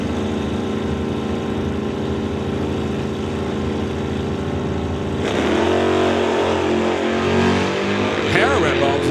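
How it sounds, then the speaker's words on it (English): Drag race cars at an NHRA Summit ET series event, a Plymouth among them, idling with a loud engine drone before a sharp rise as they launch down the strip, while a voice talks over the PA. "We'll race Rob Hodgson in the Plymouth."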